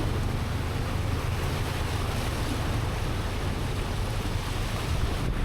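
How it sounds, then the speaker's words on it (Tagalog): Steady rushing floodwater on a road churns and splashes continuously, a broad surging wash close by with a low rumble underneath, no talking. "Baha ng tubig."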